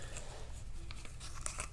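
A small plastic accessory baggie from a Mezco One:12 Collective Spider-Man figure set is handled close up, giving soft crinkling and rustling throughout with a few sharper crackles near the end.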